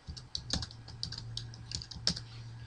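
Quick, uneven keystrokes on a computer keyboard as a router username and password are entered for a TP-Link WDR4300 setup page, soft and close with no talking.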